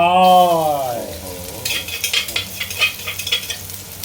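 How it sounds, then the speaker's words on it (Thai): Pounded chili and garlic go into a very hot pan and break into a bright, crackling sizzle with bursts of spatter. A voice fades out before it, and the frying then carries on alone. "ใส่พริกที่เราโขลกไว้นะครับพริกกระเทียมเห่นมครับ เทลงไป"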